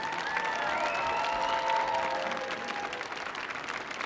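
Applause from a concert audience honoring an elderly performer at a live stage show, continuous clapping with faint whistles or cheers weaving through it.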